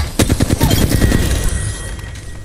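An automatic weapon in the Apex Legends battle royale game rattles off a rapid, loud burst of close shots for about a second, followed by a fading echo tail.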